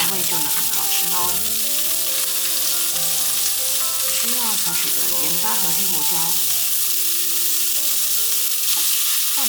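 Vegetables seasoned with salt and black pepper are stir-fried in salmon oil in a flat pan, with a loud, steady sizzle and stirring over music while a voice briefly speaks.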